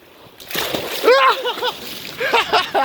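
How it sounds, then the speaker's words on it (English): Ocean waves splash over rocks near a waterfall, a few quick close splashes and sloshes, with voices calling out over the water. "here comes another wave"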